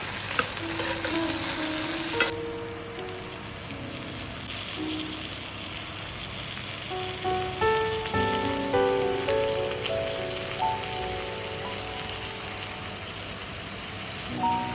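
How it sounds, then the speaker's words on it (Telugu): Chopped spinach going into potatoes cooking in a pan: a dense, even sizzle and crackle like rain on a surface, with occasional stirring clatter, steady and fairly close throughout. "ఇప్పుడు మనం కట్ చేసి పెట్టుకున్న పాలకూర ఏదైతే ఉందో అది కూడా వేసేసుకోవాలి."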